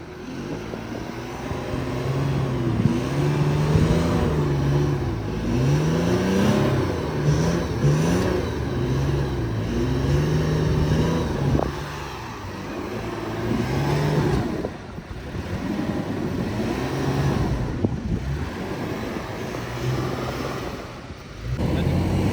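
Steady in-car engine drone and road rumble of a car driven by a husband on a road trip around Mandya, Hassan and Mysore, continuous and fairly loud with faint voices underneath.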